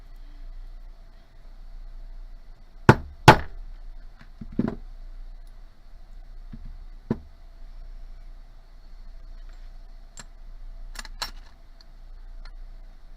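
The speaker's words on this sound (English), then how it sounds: "I'm gonna continue to hammer." A hammer taps a beaded ring in a metal dapping block, giving a handful of sharp, isolated metallic strikes spaced irregularly against a quiet room.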